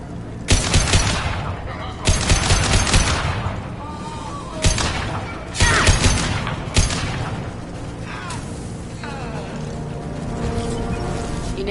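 Gunfire and blasts burst out in the sci-fi game Mass Effect 2: several loud, sharp volleys arrive in clusters a second or two apart, each trailing off into echoing rattle over a steady mechanical background.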